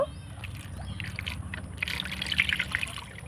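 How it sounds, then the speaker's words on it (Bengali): Water trickling and splashing softly as red homegrown guavas are washed by hand, a steady close dribble with light drips and no talk. "পেয়ারাটাকে প্রথমে আমি ধুয়ে নেব।"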